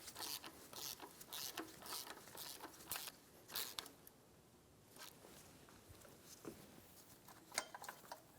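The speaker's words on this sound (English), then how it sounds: "Using a 12 millimeter socket, loosen the tensioner pulley." Quiet, close ratcheting from a ratchet and 12 mm socket loosening the tensioner pulley on a 2003–2007 Infiniti G35, with bursts of rapid clicks, a short pause in the middle, then more clicking.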